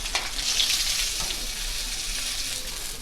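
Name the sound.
puti fish frying in oil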